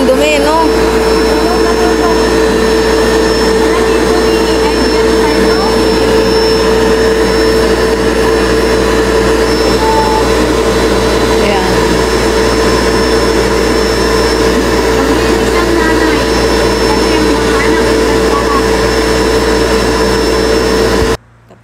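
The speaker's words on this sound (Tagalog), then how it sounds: "Vacuum." A vacuum cleaner runs on a couch, a loud, steady whining roar with a sharp high tone that holds unbroken for about twenty seconds, then stops abruptly, with speech faintly underneath.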